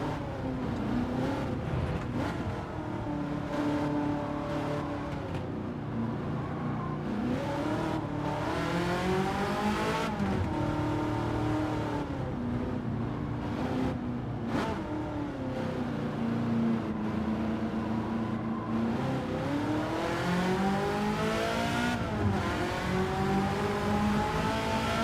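A roughly 700-horsepower Ford GT race car in Gran Turismo 7 drones steadily at high revs, its pitch climbing and dropping through repeated gear shifts, loud and continuous for about twenty-five seconds without talk.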